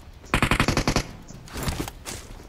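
Automatic gunfire in the mobile game BGMI / PUBG Mobile rattles out as a rapid, loud burst of about eight shots, followed by fainter distant shooting.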